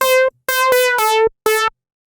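A Subtractor synthesizer patch from the Reason factory sound bank plays four bright, buzzy sustained notes in a short phrase, each starting and stopping abruptly, heard clean and alone.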